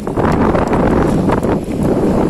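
Strong wind buffets the microphone at a seaside fishing spot where people are fishing for mullet, a steady loud roar of gusts with no pause and no talk.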